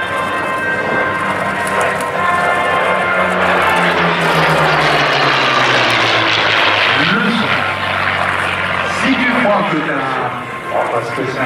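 A Curtiss P-40 Warhawk with its V-cylinder engine at the Paris Air Legend 2019 airshow, a loud sustained propeller drone passing close with shifting pitch, crowd chatter and an announcer's voice underneath.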